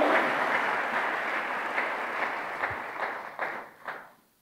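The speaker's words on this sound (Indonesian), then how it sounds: "Tepuk tangannya boleh yang paling meriah buat Tuhan kita" Church congregation applause during a sermon, a broad wash of clapping that gradually thins, with a few last claps before it fades out.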